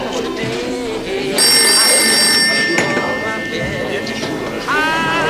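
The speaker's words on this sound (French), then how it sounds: "Karl, téléphone pour toi." A telephone rings with a bright, repeating electronic tone over background chatter and room noise.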